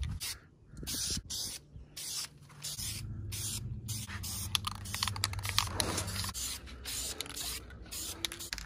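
A spray can lays a first light coat of paint onto a Honda D-series style engine valve cover, the hiss coming in several bursts with short pauses between them, close and steady, with no one talking.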